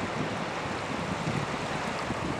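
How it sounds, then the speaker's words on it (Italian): Ocean waves surging together at the shore at Warrnambool, Australia, a steady broadband wash of surf with wind rumbling over the microphone, continuous and close, with no talk. "si incontrano le onde qui"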